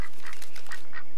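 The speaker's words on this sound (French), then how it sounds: "C'est un canard." A duck feeding only on aquatic plants gives a few short nasal quacks, clear and fairly close against a quiet background.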